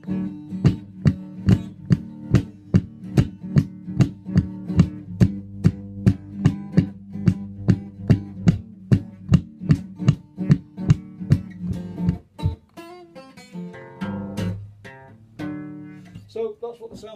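An electric guitar plays through a homemade stomp box into a small Marshall 15-watt amp turned up with the bass down. Repeated driving chord strums pulse steadily for about twelve seconds, then looser ringing notes follow.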